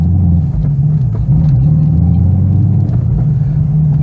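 Chevrolet Camaro engine in daily driving, a steady low rumble with a slightly wavering drone as the car cruises, loud and continuous without talk.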